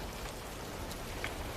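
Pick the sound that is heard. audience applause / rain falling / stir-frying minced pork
rain falling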